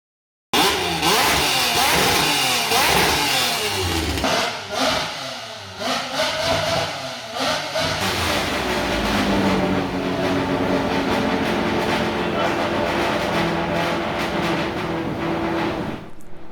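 A V12 engine's exhaust after an ECU fix, loud and close, revving up and down with rising and falling tones at first, then settling into a sustained, rasping drone that holds to the end.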